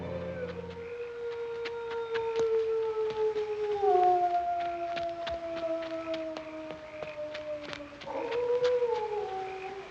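A gigantic hound lets out a long, mournful howl that slides slowly downward in pitch, then rises again into a second howl near the end, loud and sustained with a faint crackly background and no talking.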